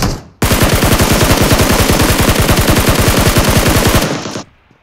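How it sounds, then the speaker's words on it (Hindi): Sustained automatic gunfire in a battle royale shooter game, a rapid, loud, steady burst of shots lasting about four seconds before cutting off abruptly. "गोली चला रहे"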